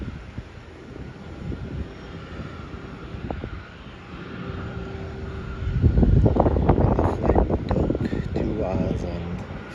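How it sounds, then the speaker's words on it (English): A Qantas Boeing 737 arriving from Sunshine Coast at Melbourne Airport, its jet rumble building from a distant drone into a louder, fuller roar in the second half, with wind on the microphone and some talk underneath. "that is Qantas Boeing 737 coming in from Sunshine Coast"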